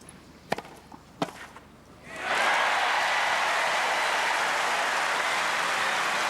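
At the 1987 Australian Open final between Stefan Edberg and Pat Cash, two sharp tennis ball strikes ring out in a quiet stadium. Then a dense, sustained roar of crowd applause and cheering swells up and holds steady.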